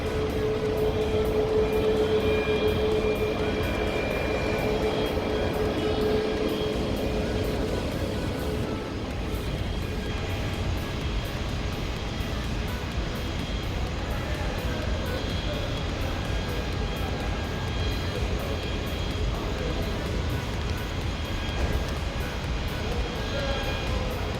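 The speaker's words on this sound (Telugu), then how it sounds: "ఫ్లైట్ అయితే రన్వే మీదకి" A steady, loud jet engine roar drones continuously as an airplane taxis on the runway at Chennai International Airport, with a faint whine on top and no talking.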